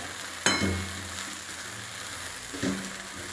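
Okra sautéing in a pan as a steady sizzle, broken by two sharp metallic clinks of stirring, close by and fairly loud.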